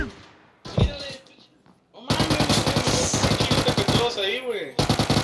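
Rapid bursts of automatic gunfire crackle in quick succession, mixed with a short shout, then a sustained stretch of dense shooting with game sound effects.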